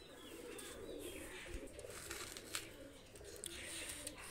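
A pair of Prince Kamagar pigeons, including a male, coo softly and faintly at close range over a quiet background, with a few light chirps.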